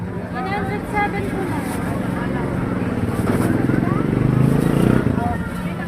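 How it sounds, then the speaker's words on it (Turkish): Motorcycles rumble and swell as they pass through a busy night market crowd in the Philippines, with steady chatter and market noise all around. "Pazarın ortasından motosikletler geliyor, geçiyor."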